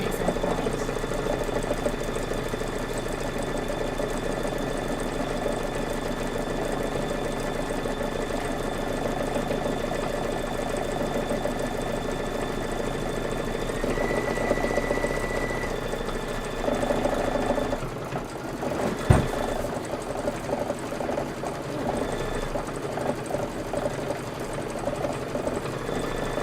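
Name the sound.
sewing machine sewing quilt pieces together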